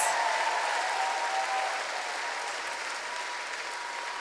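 A live audience applauds in a sustained, even wash of clapping that starts loud and eases off slightly, with no distinct voices standing out.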